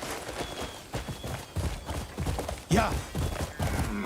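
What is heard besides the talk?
horse galloping and neighing in the video game Crimson Desert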